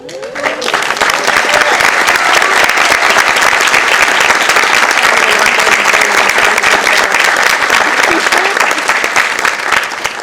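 Loud, sustained applause fills a city council chamber as the audience claps for parents of a state-championship school team, a dense roar of many hands that swells quickly and holds steady.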